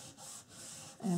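A wipe rubs back and forth across a paper mini album to clear off excess glue, three quick soft swipes followed by a louder knock at the end, close and quiet.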